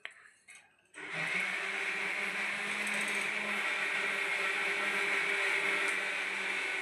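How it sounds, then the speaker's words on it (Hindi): A kitchen mixer grinder runs while chutney is made, starting abruptly after a quiet moment and holding a steady, loud whirring drone to the end. "मम्मी की मिक्सी की आवाज आ रही होगी, मम्मी चटनी वगैरह कुछ बना रही है शायद से"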